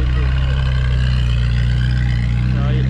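A car's engine idles and burbles at Monaco Cars & Coffee, a deep, steady low rumble held loud and close over three seconds, with some voices faintly behind it.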